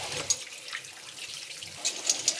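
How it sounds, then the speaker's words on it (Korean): Frozen cuttlefish rinsed under a running kitchen tap, a steady close splash of water in a sink with a few sharper drips and spatters as it is handled. "일단 제일 먼저 갑오징어 손질부터 할 건데요, 얘를 지금 얼어져 있으니까 한번 씻어주고 약간 해동을 해주겠습니다"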